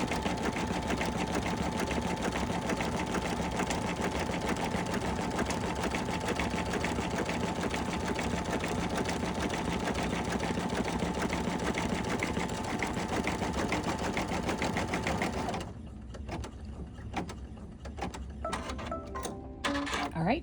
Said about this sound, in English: This is going to stitch at that top line across the top. And we're just also securing our felt down at this point in time.